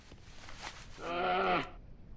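A white riding goat mount in World of Warcraft gives a single clear bleat lasting about half a second, fairly loud and up close, with low game ambience around it and no speech.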